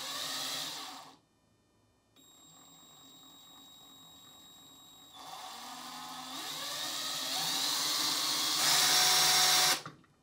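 A cordless drill with a variable trigger whirs in bursts, spinning up at different speeds with pauses between runs, the pitch rising and the motor growing louder toward the end before cutting off.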